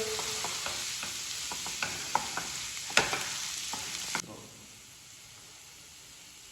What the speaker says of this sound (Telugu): ఇందులో పులుపు కోసం కొన్ని మామిడికాయ ముక్కలు మేము చింతపండు వాడము మామిడికాయ ముక్కలు వేస్తాము